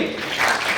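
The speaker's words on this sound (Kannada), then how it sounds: "ಪ್ರತಿ ವಿದ್ಯಾರ್ಥಿಗೂ ತಮ್ಮ ಚಪ್ಪಾಳೆ ಬರಲಿ" A school audience at a National Consumer Day prize-giving applauds a student, a dense wash of many hands clapping steadily for under a second.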